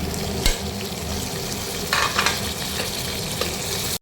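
Tomato going into a pan of frying onions for a Bengali red mutton curry, with a steady loud sizzle and scraping stirring strokes close by, no voices.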